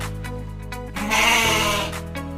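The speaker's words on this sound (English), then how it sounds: "Goat." A goat lets out one drawn-out wavering bleat in the middle, set over a steady background music track.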